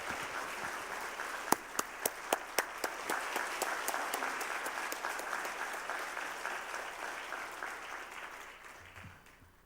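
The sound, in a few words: congregation applauding to welcome the speaker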